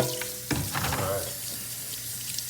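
Tap water runs steadily into a sink or tray during disc golf disc dyeing with the cone method, a continuous close splashing rush with a brief louder gush near the start and a low hum underneath.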